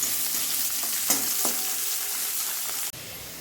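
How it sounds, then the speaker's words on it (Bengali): Chopped onions and green chillies sizzle steadily in a pan, a close, continuous frying hiss with a few soft clicks of stirring and a brief drop near the end. "এই দেখুন পেঁয়াজগুলো ভাজা হয়ে গেছে"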